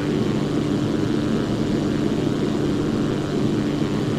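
A Zlin Z-142 propeller plane takes off in a flight simulator, its engine giving a steady, loud, droning roar with no break.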